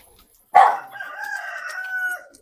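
A single loud rooster crow rings out nearby on a farm, rising sharply and then holding a long, wavering call before fading.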